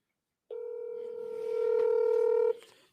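Steady telephone tones sound while a phone call is placed, one continuous tone holding for about two seconds before cutting off abruptly. It is clear and fairly loud, with no talking over it.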